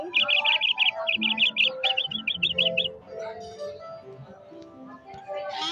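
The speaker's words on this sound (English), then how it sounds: "Canary." A canary in an animal game sings a quick series of bright, high chirping trills in short bursts, close and clear, followed by quieter softer sounds.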